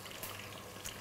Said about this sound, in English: let's check on the potatoes are frying nicely